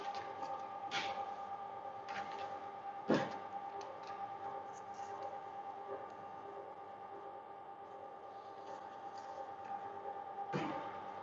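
A Richmen Gold II noodle machine mixing dough runs with a steady mechanical hum and a tonal whine, with faint scattered clicks and a few knocks over about eleven seconds, close and moderately quiet with no talking.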